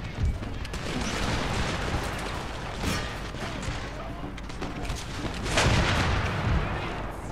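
Heavy booming blasts of cannon fire in Empire: Total War, with two louder bursts standing out over a constant rumbling din of gunfire.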